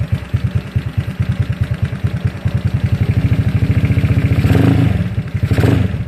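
A GY6 scooter engine idles close by with a rapid, even putter that swells slightly louder and rougher near the end, no speech over it.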